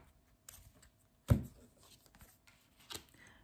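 A tarot deck being cut and re-stacked by hand: soft papery shuffles and taps, then a sharper slap of cards at the midpoint and another light snap near the end, close and quiet with no talk.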